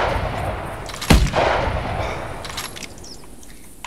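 A single loud hunting-rifle shot rings out in The Hunter 2016 video game, with a sharp crack and a long rolling echo that fades over steady outdoor ambience.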